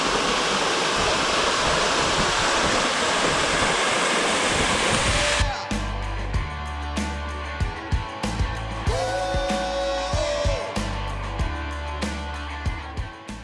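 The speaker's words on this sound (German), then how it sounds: "Geil, voll der Wasserfall." Mountain waterfall in the Sierra Nevada of Spain, a loud, dense roar of falling water that cuts off partway, after which quieter clicks and handling sounds follow.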